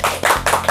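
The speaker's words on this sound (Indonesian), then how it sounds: "Kita berdua kok jadi banyak yang tepuk tangan ya." An audience at an Indonesian church gathering claps, giving a few loud, close, rhythmic hand claps in a short burst.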